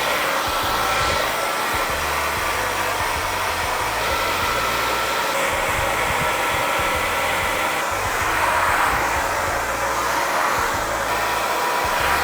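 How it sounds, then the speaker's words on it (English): A hair dryer on its lowest setting with no heat blows steadily, a constant airy whoosh with a faint motor drone, running alone without a break. "I'm gonna use the hair dryer at least a little bit"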